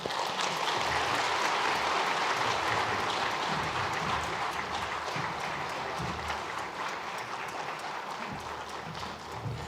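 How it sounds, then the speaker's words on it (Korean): A church congregation at a Sunday worship service applauds continuously, a thick, even wash of many hands clapping that holds steady for the full stretch and eases slightly toward the end. "우리 축하와 응원을 담아서 한번 격려로 박수하겠습니다"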